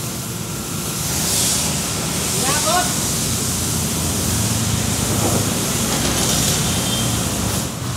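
Water from a long hose gushes steadily across a street pavement in Malate, Manila, a continuous broad hiss that stays loud and close throughout, with background street noise beneath.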